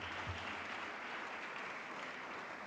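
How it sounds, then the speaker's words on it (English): Faint, distant applause from an audience at an entrepreneurship development program session, an even spread of clapping that holds steady for the whole stretch. "Can you give a good round of applause to the man who gave that?"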